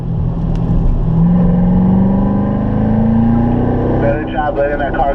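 A Corvette accelerating on a race track at a driving school, the engine loud and close with a steadily rising drone before a shift, an instructor's voice talking over it.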